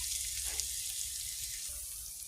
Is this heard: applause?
no